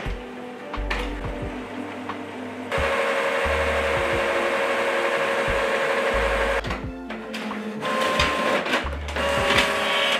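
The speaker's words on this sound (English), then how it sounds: "Now I leave the printer for 10 minutes until the print head alignment is" A Canon MAXIFY GX-series inkjet printer prints a print head alignment page, its carriage whirring and clunking in repeated mechanical passes with steady motor hum, close and loud, with no speech.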